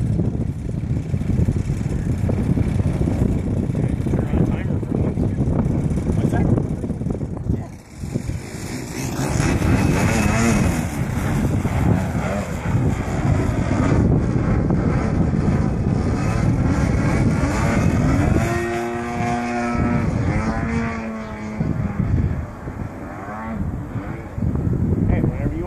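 Extreme Flight MXS radio-controlled aerobatic plane flying on a windy day, its electric motor droning and shifting pitch as it passes, with gusty wind buffeting the microphone and people talking intermittently.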